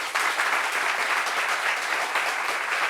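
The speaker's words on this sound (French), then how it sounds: "Premier invité, Bonia Sekongo. Applaudissements pour elle." Studio audience applause for a guest being introduced on a French talk show, a dense, steady wash of many hands clapping at full volume throughout, with no talk over it.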